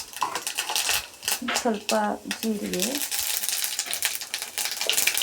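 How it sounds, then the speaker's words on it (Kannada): Mustard seeds crackle and sizzle in hot oil in a pan, a continuous hiss with scattered sharp pops, heard under a voice speaking in the middle and continuing alone afterward. "ಎಣ್ಣೆ ಕಾದಿದೆ, ಅದಕ್ಕೆ ಸಾಸಿವೆ,"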